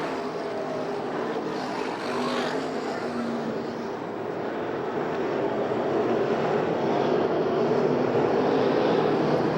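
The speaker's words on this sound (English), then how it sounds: "Good racing right now with Cruzman and Gunn for the 10th and 11th spot." Sprint cars race at Phoenix in a USAC National and CRA Western World Championship event, a dense wall of roaring engines held at steady loudness throughout without a break.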